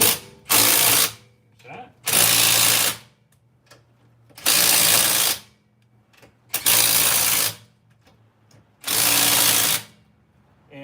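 An impact wrench limited to 80 foot-pounds tightens wheel lug nuts in a star pattern during a brake job, five loud hammering bursts of about a second each separated by pauses, with a brief spoken remark between them.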